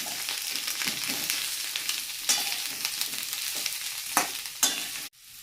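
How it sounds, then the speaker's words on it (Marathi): Onions sautéing in hot oil in a pan while preparing a mutton thali, a steady sizzle and frying hiss with occasional scraping stirs, close and continuous with no talk. "आणि आपण तेलामध्ये परतून घेऊया"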